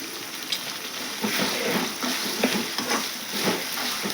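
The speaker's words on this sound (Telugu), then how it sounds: "కొద్దిగా కరివేపాకు కూడా వేస్తున్నాను." Curry leaves fry with tomato pieces in a pan for a brinjal curry, giving a soft, steady sizzle broken by scraping stirs and light clatter, fairly quiet and close.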